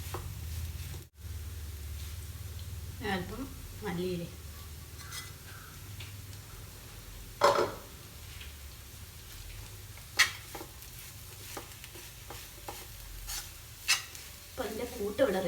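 Bread crumbs are stirred into a frying mixture in a pan, a soft steady sizzle under scattered scraping and tapping of a spoon against the pan, with a few brief spoken words over it.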